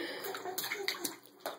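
A six-month-old baby splashes water in a bathtub, with a steady run of close sloshing and slapping splashes and a few sharper hits.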